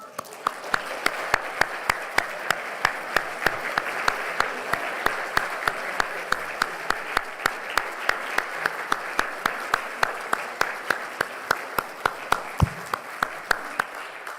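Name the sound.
church congregation applauding the fathers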